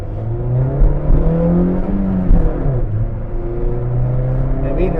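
A Honda Amaze sedan's engine revs up and down repeatedly, a loud, close rumbling whir rising and falling.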